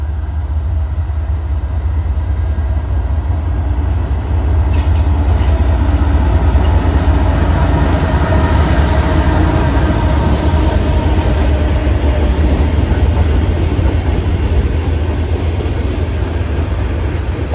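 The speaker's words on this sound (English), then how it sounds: "We got a lot of locomotives coming, it looks like." A freight train led by several locomotives, one of them an SD40 AC, rolls past. Its loud, steady rumble and wheel noise fill the scene from start to finish with no talking.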